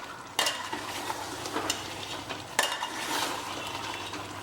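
Mutton stir-fries in a pan on high flame for Mutton Shirazi, with a continuous sizzle broken by sharp metallic clanks and scrapes of the spatula against the pan.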